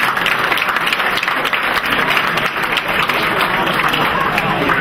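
An audience at the Cape Cod Chamber of Commerce annual meeting applauds a newly elected chamber director, a loud, steady wash of clapping from a large crowd that holds evenly for several seconds.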